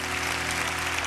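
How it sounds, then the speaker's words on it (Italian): Dense, continuous crowd applause from a comedy show audience, steady and fairly loud throughout the short stretch with no pauses. "Ma cosa applaudite?"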